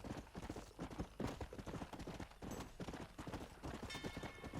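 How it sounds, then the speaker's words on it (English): Horse hooves clip-clop in a steady trotting rhythm in Red Dead Redemption, quiet and continuous with no talk over them. "There's a horse."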